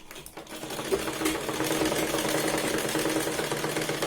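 A sewing machine runs steadily, stitching a folded fabric strip for a big-size Punjabi top, with a continuous rapid whirring chatter close by and no speech.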